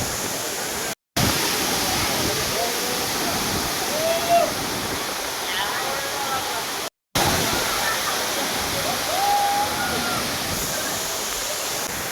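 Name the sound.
waterfall in Kasaragod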